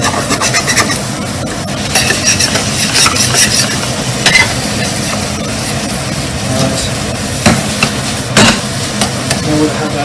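A utensil scrapes browned bits off the bottom and sides of a hot pan while making shepherd's pie, loud close sizzling with repeated rough scraping strokes throughout.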